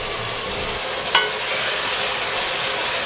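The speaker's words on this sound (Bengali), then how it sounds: "এই পর্যায়ে মশলাটাকে 3-4 মিনিট মতো কষিয়ে নিলাম" A spice masala sautés in a pan over medium heat, a dense, steady close-up sizzle with one brief utensil tap partway through.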